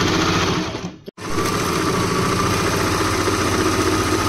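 An Usha Janome Stitch Magic sewing machine runs steadily, stitching with a continuous mechanical whir, pauses abruptly for a split second, then resumes at the same close, even pace.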